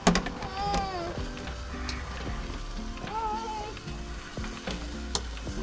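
Onion and wild forest mushrooms frying in a pan for scrambled eggs, a steady close sizzle with stirring clicks alongside faint sliding tonal sounds in the background.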